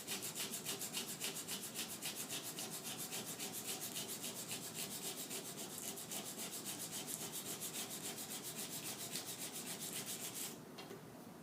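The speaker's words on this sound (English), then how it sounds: "make sure when you sand, you're sanding just back and forth in one direction" Steady, rapid scraping of sandpaper rubbing back and forth on metal, continuous and fairly loud, easing off slightly near the end.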